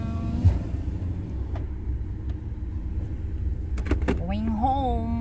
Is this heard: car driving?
yes